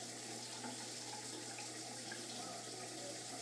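A shower runs with a constant broadband hiss of falling water, steady and unbroken for a few seconds over a low electrical hum while someone plays a computer game.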